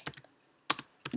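A few quick bursts of keystrokes on a computer keyboard, close and fairly quiet, split into three short clusters with silence between them.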